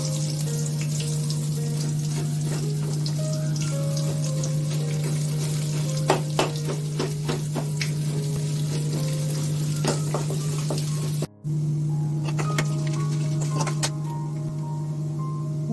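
Rice frying in oil in a pan, a steady close sizzle with a strong low hum underneath and a few scattered crackles, running without a break except for one brief dropout.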